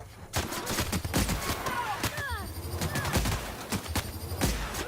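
Rapid, heavy gunfire from a powerful weapon in the video game The Outer Worlds, a dense barrage of loud overlapping shots with ricochet-like whistles, continuing for several seconds.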